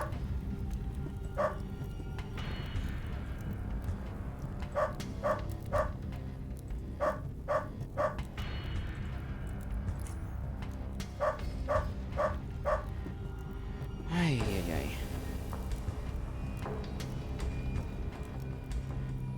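A dog in the game UnderRail barks in short clustered bursts of two to four yaps, repeated several times over a constant low droning game ambience, fairly clear and close.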